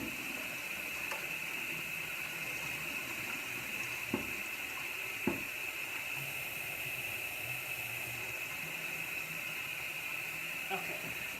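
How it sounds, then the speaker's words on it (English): Water from boiled butternut squash is drained off in a kitchen, giving a steady faint hiss and trickle with a couple of soft clunks of the pot partway through. "So now I'm just going to drain the water off of this."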